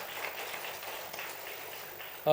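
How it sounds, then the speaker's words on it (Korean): A church congregation applauds during a Sunday worship service, a dense, even patter of clapping from many hands in a large room, ending with a brief louder sound at the very end. "박수 한번 더 격려하겠습니다"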